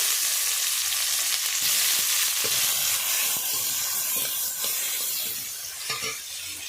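Garlic, slit green chilies, bay leaf and tomato fry in hot oil for a rohu fish and yam curry. The hiss is bright and steady, broken by stirring clicks, and eases slightly at the end.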